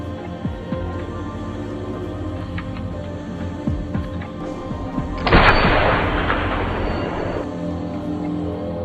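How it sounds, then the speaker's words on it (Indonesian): A single loud sniper rifle shot from the film Sniper: The White Raven cracks out, followed by a few seconds of rumbling echo that fades, over a low steady background. "ia melepaskan sebuah tembakan yang begitu"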